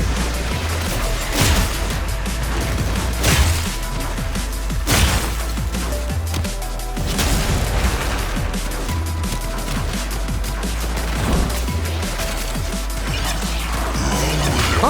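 Heavy slam melee attacks in Warframe with the Magistar hammer land as repeated booming thuds and crashes at a steady pace over a dense game soundscape of low rumble and effects, loud and close, with no talk.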